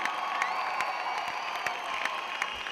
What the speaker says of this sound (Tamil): உங்களுடைய பலத்த கரகோஷங்களுடன் let's welcome on stage